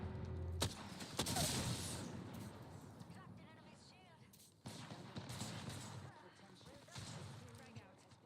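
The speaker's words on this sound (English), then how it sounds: "Throw my grenade out." A grenade blast in the video game Apex Legends, a loud crash among scattered gunfire and booming impacts, with players talking over the action.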